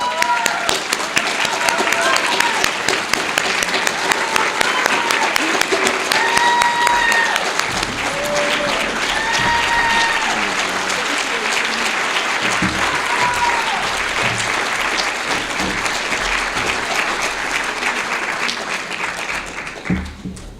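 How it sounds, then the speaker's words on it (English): A large crowd at an awards evening gives a loud, sustained round of applause for an award recipient, dense and continuous for about twenty seconds, with cheers and voices rising through it. "So please stand and give a round of applause to Dr."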